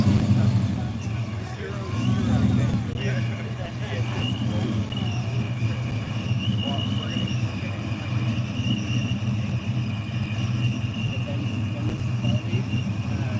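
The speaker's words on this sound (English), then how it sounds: "Oh, the GT3's leaving." A Porsche GT3 pulls away from a Memphis cars and coffee meet, its engine droning steadily nearby for several seconds while people chat in the background.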